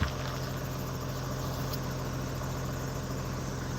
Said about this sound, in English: the thing's just sitting there idling